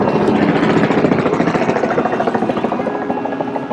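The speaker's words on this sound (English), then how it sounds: "There's a Robinson helicopter, probably doing traffic reports for a TV station or a radio station in the city of Toronto." A Robinson helicopter passes over Toronto, its rotor giving a loud, continuous rhythmic chop that slowly eases as it moves on.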